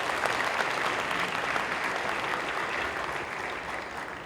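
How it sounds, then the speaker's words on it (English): A large audience at the Africities 7 closing ceremony in Johannesburg breaks into dense, sustained applause, a steady wash of clapping that holds evenly, then eases slightly toward the end. "And a round of applause."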